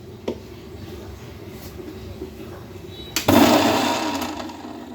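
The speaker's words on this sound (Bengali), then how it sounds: "কাঁচা কাঁঠালগুলোকে একটু ব্ল্যান্ডারে সেদ্ধ করে নিচ্ছি" A blender grinds raw jackfruit for kebabs, kicking in abruptly about three seconds in with a loud, steady whirring roar after a quieter start.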